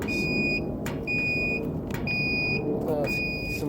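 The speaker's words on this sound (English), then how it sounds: "The pit temp alarm, it's a little too warm because it's at 250" Pit temperature alarm on a Flame Boss controller fitted to a Kamado Joe Big Joe grill, beeping in repeated short high tones about every half second, with a low background rumble and no talk.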